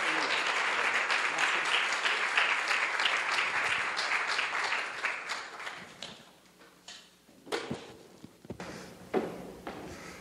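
An audience at a health lecture in a museum gives a full, dense round of applause welcoming a speaker. It thins into scattered, fading claps and a few knocks and taps before quiet settles.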